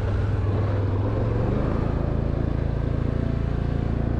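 A four-wheel-drive vehicle's engine rumbles steadily as it descends a steep, roughly 45-degree off-road ramp near Emre Lake, a continuous loud low drone with no talk over it.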